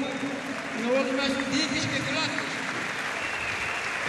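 An audience applauds steadily with dense, continuous clapping at a basketball award ceremony for the Nick Galis Cup, and the sound stays even and sustained with a faint voice underneath.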